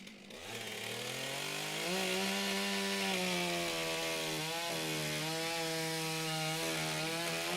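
A STIHL Timbersports single-saw chainsaw at a women's and rookie championship in New Zealand cuts through a wood block with a loud, sustained roar. The engine pitch climbs once the cut begins and dips twice as the saw moves through the block.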